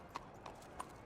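Horse hooves clip-clopping in the video game Red Dead Redemption, three evenly spaced, fairly quiet hoof strikes at a slow walking pace.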